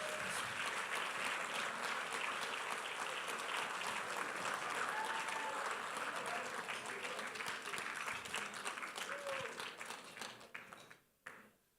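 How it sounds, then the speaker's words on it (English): An audience claps in sustained applause, dense and steady before thinning out and fading toward the end, with a few voices mixed in. "Let's give them a big round of applause."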